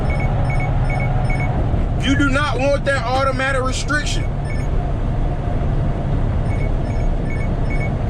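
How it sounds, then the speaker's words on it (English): An electronic alarm sounds in a burst of rapid repeating tones lasting a couple of seconds, heard over someone talking and steady background rumble. "My alarm went off."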